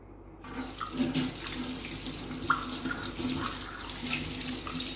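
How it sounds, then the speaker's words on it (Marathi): Running tap water splashes steadily into a kitchen sink as a brass pooja vessel is rinsed and washed, with occasional clinks and sloshes over a continuous close flow. "दिसलं का देवाचं भांडं पण धुतलं गेलं"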